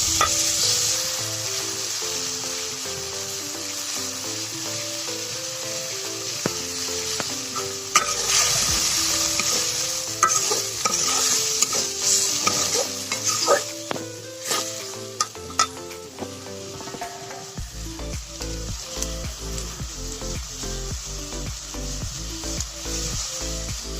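Pumpkin bori, potato, brinjal and puti fish stirred and fried in oil in a pan, with steady sizzling and repeated scraping strokes, alone and close, with a low rhythmic background layer.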